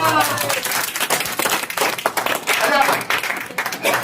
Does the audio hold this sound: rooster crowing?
no